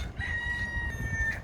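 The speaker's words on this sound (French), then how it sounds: "Et il y a un putain de coq qui chante." A rooster crows once in a sustained, steady call in a city street in Toulouse, moderately near, over a low outdoor rumble.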